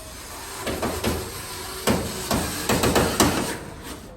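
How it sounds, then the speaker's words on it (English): A series of short, sharp clicks and clunks from four Phillips head screws being worked loose and handled on the door of a Kenmore Elite clothes dryer, irregularly spaced and fairly close. "Now we got 4 Phillips head screws that mount the top of the door to the body of the dryer."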